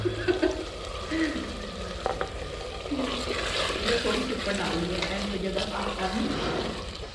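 Keema frying in a pan in a home kitchen, a steady loud sizzle with faint stirring and scraping throughout, and a person talking over the cooking.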